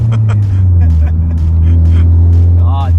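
Loud, deep, steady engine rumble from a Nissan S15 Silvia kaido racer, close and constant throughout, with people chatting over it.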